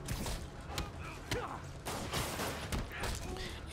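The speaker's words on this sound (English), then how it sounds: "Using a rocket launcher that close?" A rocket launcher fired at close range in Spider-Man on PS4, several sharp blasts and thuds amid chaotic combat clatter and whooshes, with voices talking over the action.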